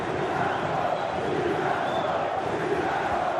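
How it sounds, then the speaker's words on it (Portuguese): A large Vasco football crowd fills a stadium, chanting in unison the name of Colombian striker Riascos during a 2016 Carioca championship match against Botafogo; a dense, continuous roar of massed voices holds steady throughout. "Gritando o nome de Riascos."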